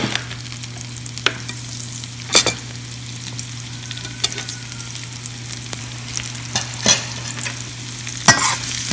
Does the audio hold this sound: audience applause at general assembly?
no